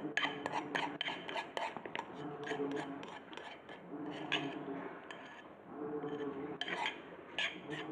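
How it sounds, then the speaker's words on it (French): Butter and margarine being worked into flour by hand in a bowl, with soft rubbing, scraping and light clinking in an irregular rhythm, faint and close. "Et il faut bien mélanger la farine et la margarine pour faire bien entrer le beurre dans la farine"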